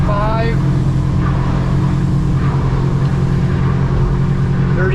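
A Defiance 26 boat running on one of its twin F200 outboard motors, a loud steady engine drone and rumble with hull and wind noise, heard close on board while someone speaks over it.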